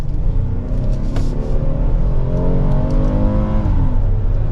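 A 2023 Kia Telluride SX Prestige X Line V6 engine accelerates hard in sport mode, its loud, steady roar climbing in pitch through the gears, heard from inside the cabin with road noise beneath.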